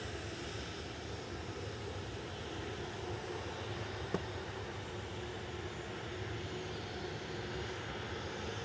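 An EasyJet plane's engines roar at Manchester Airport, a steady, broad, moderately distant drone that holds level throughout, with one brief faint click partway through.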